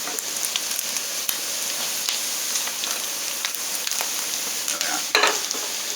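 Onions caramelizing in a hot pan for fried rice with nettles, a steady loud sizzle and crackle close up, with a few scraping stirs and a brief flare of louder hissing near the end.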